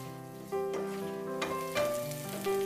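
Green chilies and curry leaves sizzle in hot oil in a pan for cashew rava upma, with soft stirring scrapes and quiet crackling bursts close by.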